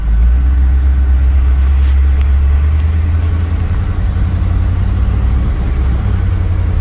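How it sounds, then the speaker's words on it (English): A 1958 Chevrolet Biscayne with a low-compression 350 V8, just restarted after years of sitting, runs at a steady idle: a continuous loud, low rumble heard close up with no talking. "She did start right back up, but what do you expect for a low compression 350?"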